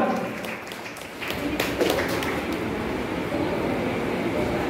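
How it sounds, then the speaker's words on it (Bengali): An audience applauds a performer at a Teachers' Day event in Nadia, West Bengal, with steady clapping that swells after a brief lull and carries on, a voice heard faintly under it. "ওর জন্য একটা জোরে হাততালি।"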